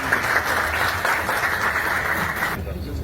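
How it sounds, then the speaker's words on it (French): Loud, dense applause from an audience at an industry and services event in Agadir, steady clapping that fills the room and then drops away sharply near the end. "Sous vos applaudissements, mesdames, messieurs."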